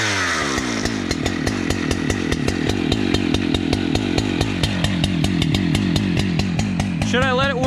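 A Husqvarna 395XP chainsaw idles with a rapid, steady popping two-stroke beat, close and loud, then briefly blips higher near the end.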